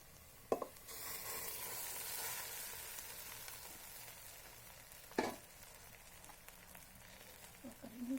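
Flattened rice (poha) stirred into sautéed onions in a pan, giving a steady sizzle with a few sharp spoon scrapes and knocks against the pan.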